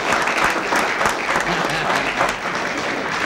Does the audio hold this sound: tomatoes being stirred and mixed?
no